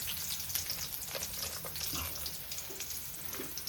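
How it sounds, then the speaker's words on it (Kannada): Onion frying steadily in a hot pan while goat head sambar is prepared, a continuous soft sizzle with occasional stirring clicks, close and moderately quiet, with no voices. "ಫಸ್ಟ್ ಆನಿಯನ್ ಹಾಕ್ಕೊತಿದ್ದೀನಿ, ಜಸ್ಟ್ ಹಸಿ ವಾಸನೆ ಹೋಗೋ ಥರ ಫ್ರೈ ಮಾಡ್ಕೋಬೇಕಷ್ಟೇ."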